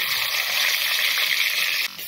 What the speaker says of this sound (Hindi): अब हम तेल में डाल देते हैं लहसुन और मिर्चा का तड़का।